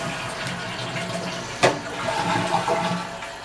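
A just-repaired toilet that previously would not stop flushing flushes once, with a sharp onset followed by rushing, gurgling water that continues at moderate level, close by.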